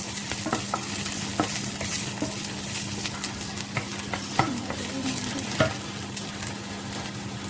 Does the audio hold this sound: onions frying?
yes